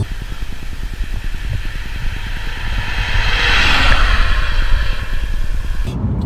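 Alfa Romeo 147 1.9 JTDm diesel engine revving, a loud, close, rough pulsing idle that swells into a sustained rev and then drops back before cutting off abruptly at the end.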